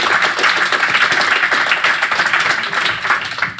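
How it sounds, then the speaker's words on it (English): An audience at a river project kick-off event in Amsterdam claps for panel members, a close, busy patter of hands that thins slightly toward the end. "please give an applause to Stanley"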